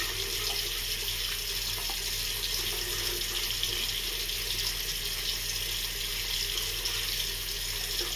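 Water runs steadily from a tap into a sink for a pre-shave rinse, a constant close hiss and splash that holds alone and unbroken throughout.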